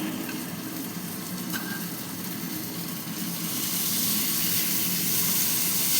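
Ginger garlic paste sizzling in hot oil for a Bengali fish chatpata, a steady close frying hiss that swells louder toward the end, with no talking.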